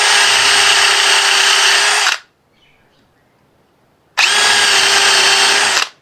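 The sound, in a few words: power drill driving screws into wood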